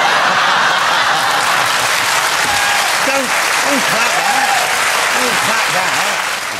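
A studio audience on a Friday night chat show bursts into loud, sustained applause that fills the whole stretch, with voices and laughter running through it.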